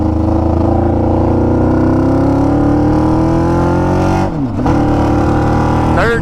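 A go-kart fitted with a 600cc motorcycle engine roars loudly and close, pitch climbing steadily under acceleration before a quick dip at a gear change, then pulling again.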